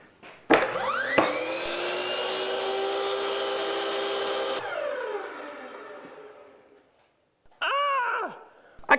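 A power saw cuts a miter in a wooden door piece: a loud spin-up whine, a steady cutting roar for several seconds, then a winding down, followed by a second short burst of the saw near the end.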